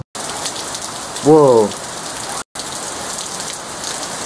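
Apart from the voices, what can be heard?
rain falling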